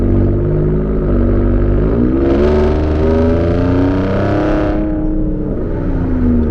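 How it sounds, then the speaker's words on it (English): A Ford F-150 Raptor's twin-turbo V6 accelerates from the driver's seat, a loud steady engine drone climbing in pitch as it revs, with a brief burst of turbo whoosh midway. "this is a very mean sounding twin turbo V6"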